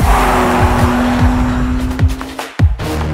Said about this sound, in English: Here at the Nürburgring, we drive many laps on the Nordschleife